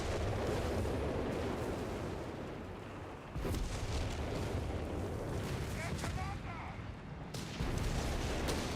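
An artillery barrage booms and rumbles in a Company of Heroes 3 battle, a dense, loud, continuous wash of explosions and gunfire with heavy low thuds and fresh bursts around the midpoint and near the end, while voices talk over it.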